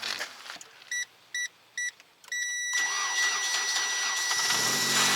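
A few short electronic beeps, then a Chery Eastar car engine cranks and catches, settling into a steady close idle.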